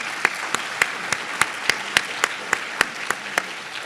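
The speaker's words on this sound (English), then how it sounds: "Can we give them a round of applause," Scattered, evenly spaced handclaps from a small part of the audience at an opioid and fentanyl summit session, sharp and distinct, each clap standing alone without any voices.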